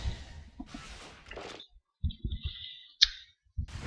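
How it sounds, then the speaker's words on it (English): Map ping clicks sound during a Dota 2 match, with sharp high chirps and a bright click heard under soft background game noise and low thuds. "So there's some pings going out."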